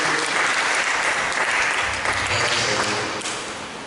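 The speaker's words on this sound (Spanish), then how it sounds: "Dar un fuerte aplauso al Señor." A church congregation gives loud, sustained applause, a dense wash of many hands clapping together that fades slightly toward the end.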